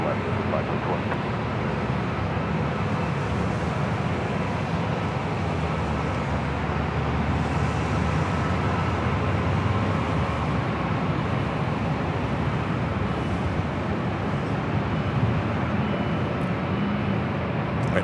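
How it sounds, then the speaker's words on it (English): A Southwest airliner takes off on runway 24 left at Los Angeles International Airport, heard as a steady, broad jet roar that holds evenly from a distance for the whole stretch. "The Southwest rolls down at 24 left."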